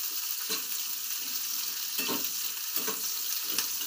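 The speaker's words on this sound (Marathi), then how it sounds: "कांदा अगोदर चांगला असा तेलात परतून घ्यायचा व्यवस्थित" Chopped onion and grated coconut sauté in hot oil with a continuous bright sizzle up close, broken by a few scraping stirs of a spatula, and nobody speaks.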